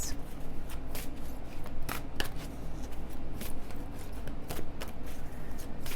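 Blue Messiah Oracle cards being shuffled close up, a steady run of soft papery riffles and flicks with sharper snaps now and then, continuing without talk.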